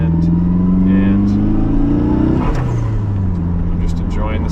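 Nissan 240SX with a turbocharged SR20 engine and a Magnaflow catalytic converter, a steady engine drone that climbs in pitch as it revs, then eases off and settles into a lower cruising hum, with occasional clatter.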